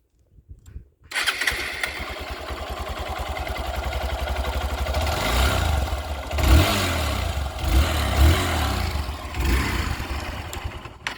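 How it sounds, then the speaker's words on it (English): A Hero Xpulse 200 single-cylinder motorcycle starts up after a brief pause, then settles into a steady thumping idle with a few short throttle blips, close and fairly loud with no talking. "let me show you guys the exhaust note, how it feels and how is it."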